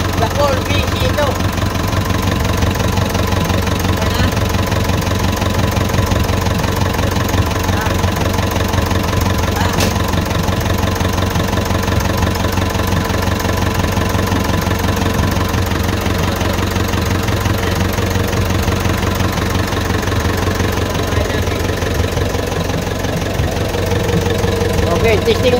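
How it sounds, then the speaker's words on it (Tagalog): Isuzu 4BC2 diesel engine running steadily after a top overhaul, a loud continuous idle with knocking clatter throughout, with no pauses. "Okay, testing the engine, 4BC ito engine. Pagkatapos natin top overall, ayan na. Patakbo na siya."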